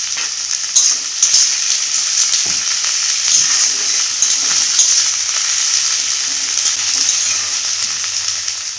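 Chopped onion and ground ginger paste fry in hot oil in a home kitchen pan, a loud continuous sizzle with occasional scraping stirs, close and steady with no talking.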